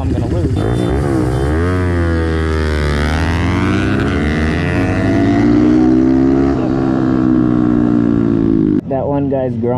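Honda Grom motorcycles rev and race on a group ride, a close engine climbing through the gears with a long rising whine, then cutting out near the end as another engine picks up.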